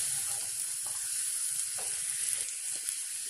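Garlic, then tomatoes, frying in a pan for a home pizza sauce, with a steady close hiss of sizzling oil and faint scrapes beneath it, no voices.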